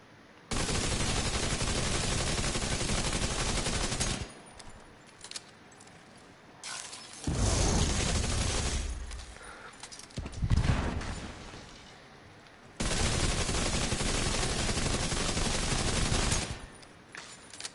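Capacitor assault rifle loaded with hollow point ammo in The Division 2, firing in long loud sustained bursts, with quieter clicks and mechanical handling sounds and shorter volleys between the two main strings of fire.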